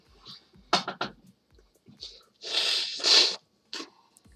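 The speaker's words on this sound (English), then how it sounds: "I gotta sneeze." A person sneezes with a wind-up of short sniffs and snorts, then a loud, breathy burst up close, ending with a faint exhale.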